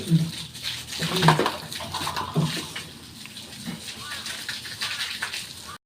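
Water splashes and pours while fattening pigs are washed down on a farm, a continuous close spray with sloshing, and someone talks over it.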